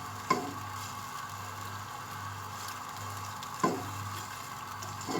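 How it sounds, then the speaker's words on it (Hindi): Minced meat frying with onion, ginger-garlic paste and cumin gives off a faint, steady sizzle, broken twice by a sharp knock of a spoon against the pan. "कीमे को अब हम प्याज और लहसुन अदरक के पेस्ट और ज़ीरा हमने डाला है, इसके साथ भूनेंगे"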